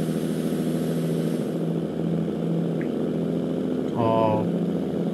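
A truck engine in American Truck Simulator drones steadily with a low, even hum while driving, swelling slightly toward the end.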